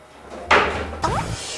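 A drawer slides open in a video game: two short, close wooden thumps and a scraping slide, about half a second apart, loud against a quiet background.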